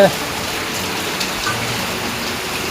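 Rain falls outside a home in a soft, continuous hiss of drops, fairly close and steady for a few seconds.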